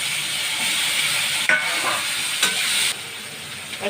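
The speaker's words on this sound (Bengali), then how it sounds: "আলুগুলো ভাজা হোক।" Potatoes frying in hot oil with black cumin (kalo jeere) in a kadai, giving a loud, close, continuous sizzle and hiss with a couple of brief stirring clatters and no talk.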